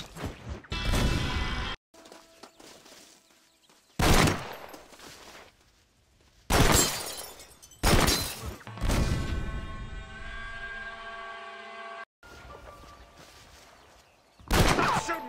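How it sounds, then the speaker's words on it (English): Heavy gunfire from Red Dead Redemption bursts in loud repeated volleys and single cracks, with ringing echoes and short silences between, close and harsh. "Stop shooting, you lunatic!"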